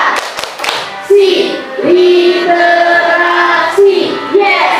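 Sixth-grade pupils perform a rhythmic school clapping chant: a few sharp, quick claps open it, then the group's voices carry a loud, sustained sung chant with occasional claps and thumps.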